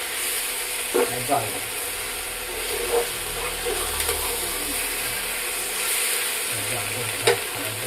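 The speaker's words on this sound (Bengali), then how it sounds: "কপিয়ে আর আলুগুলোকে ভালো করে কষানো হলো" Cauliflower and potatoes frying in a pan, with a steady hiss of sizzling oil and occasional soft stirring knocks, close by and without speech.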